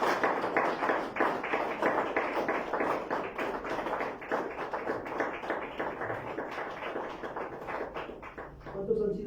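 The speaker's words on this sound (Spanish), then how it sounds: "Dale un fuerte aplauso al Señor." A church congregation at a Sunday service claps loudly in a fast, rhythmic patter of sharp hand claps, with voices mixed in throughout.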